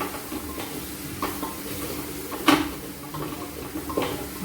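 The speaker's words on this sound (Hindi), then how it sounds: "और टमाटर जो है हमारा इसी मसाले के साथ भूनेगा।" Tomatoes frying in a spice mixture in a pan for rasam, giving a low steady sizzle with a few brief stirring scrapes and one louder clatter, fairly close.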